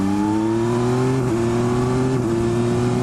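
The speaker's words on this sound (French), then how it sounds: "On peut maintenant ouvrir gaz en grand sans se faire peur" Yamaha Tracer 9 GT 2022 motorcycle engine pulling hard under full throttle, a steady loud drone whose pitch climbs gradually, with a brief dip around a gear change, close and continuous with no talk.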